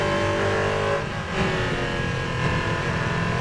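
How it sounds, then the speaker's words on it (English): Le Mans prototype race car engine roaring as it approaches from behind and drives past, a loud sustained mechanical drone with a brief dip in level midway. "You just see a Le Mans prototype coming up in your rearview mirror."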